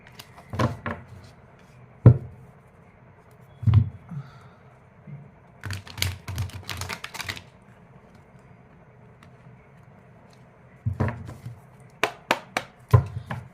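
Tarot cards shuffled by hand at close range, with short bursts of riffling and soft taps and thumps separated by quiet pauses, and no talking.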